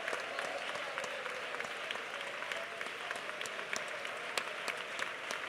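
A church congregation at a prayer centre breaks into sustained applause, a dense, even wash of many hands clapping at moderate distance, steady for several seconds with no voices standing out.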